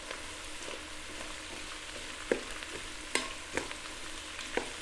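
Minced garlic and onions sauteing in a pan, a soft continuous sizzle broken by several sharp stirring clacks of a utensil against the pan, with no voices.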